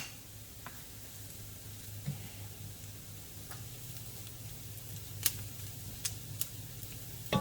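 Garlic sautéing in a pan for arancini, a soft steady sizzle with occasional clicks and taps of a bamboo spoon stirring, faint and close.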